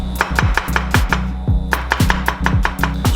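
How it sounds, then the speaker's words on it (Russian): Onion and button mushrooms being cut into strips with a kitchen knife, a steady run of sharp, close chopping taps on a board, about three per second, under a constant background of music with no talk. "И режем на соломке лук и шампиньоны."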